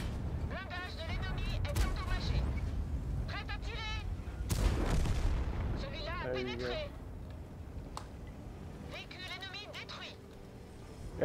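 Tank guns firing in a tank battle video game featuring the Bat Chat 25t, with several sharp booming shots spread across the clip under a man's ongoing speech.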